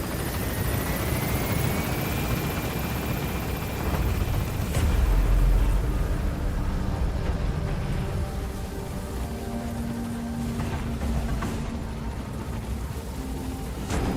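Helicopter in the video game Metal Gear Solid V lifting off from a landing zone, a steady loud rotor and engine roar with rumbling low thumps, continuous throughout with no talking.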